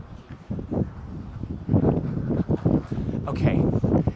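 Gusty wind buffets an outdoor microphone on a very windy day near Tsukiji fish market, producing loud low rumbling bursts that come and go throughout, with some faint background voices.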